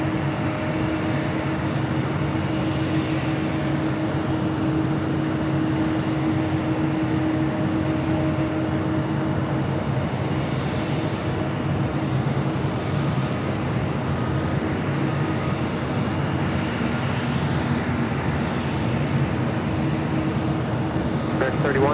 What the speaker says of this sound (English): First arrival on the north side, Asiana Airlines Flight 202. Coming in from Seoul.